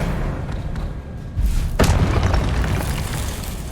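Expelliarmus spell blast in the Hogwarts Legacy video game, a loud booming burst with a deep thud and sharp crack midway, over continuous rumbling game ambience.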